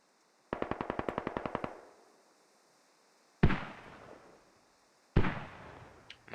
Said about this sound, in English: Mortar's going down